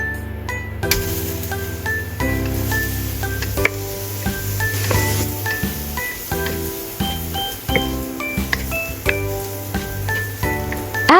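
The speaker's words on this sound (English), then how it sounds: "add cooking oil and continue to stir-fry" Mushroom stems sizzle steadily in hot oil while a utensil scrapes and clinks against the pan in an irregular stir-frying rhythm.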